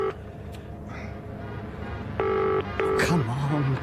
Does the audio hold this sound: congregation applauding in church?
no